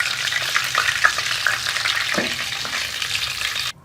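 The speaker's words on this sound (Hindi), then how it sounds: "बाकी की जो है वो मैं ड्रम स्टिक फ्राई कर लूँगी।" Chicken drumsticks fry in hot oil with a steady sizzle and crackle, broken by a few sharp pops and stirring scrapes, ending abruptly.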